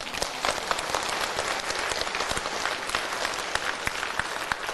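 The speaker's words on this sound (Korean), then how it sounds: "박수." Dense, steady applause from a church audience at a pastor's lecture, many hands clapping close together in a rain-like wash with occasional sharper claps standing out, no talk over it.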